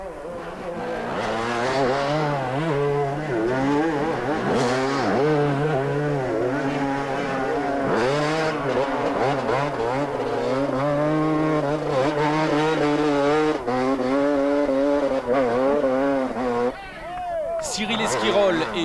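Modest 125cc motorcycles race up a hill climb at the Grand Gramont. Engines whine with rising and falling pitch nearly throughout, and a commentator talks over the racing.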